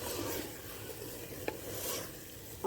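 Boneless chicken handi being mixed in a hot pan, a continuous sizzle with soft stirring scrapes and a single sharp tap of the spoon against the pan partway through, close up.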